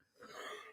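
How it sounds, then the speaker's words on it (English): A single short cough, faint and close, heard alone during a livestream reaction to an NRL rugby league match between Manly Sea Eagles and Newcastle Knights. "A cough happened."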